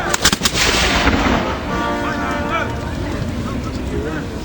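1812 reenactors at Cardiff Castle fire a musket volley, a ragged cluster of sharp cracks right at the start, followed by steady outdoor wind rumble.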